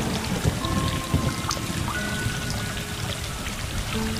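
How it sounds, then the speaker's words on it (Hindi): Thunder and rain in the video game Stray, with dense steady rainfall pattering on surfaces, low thunder rumbles and faint tonal game sounds, continuous and fairly loud with no speech. "बिजली कड़क रही है।"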